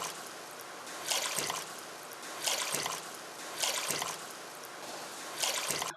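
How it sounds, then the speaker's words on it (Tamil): Water poured into a pot for Thiruvathirai kali in four separate bursts, evenly spaced, each a short splashing gush close by with quieter trickling between. "அஞ்சு கப்பு தண்ணி ஊற்றிருக்கேன்."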